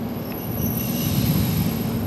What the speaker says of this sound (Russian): Вон электричка.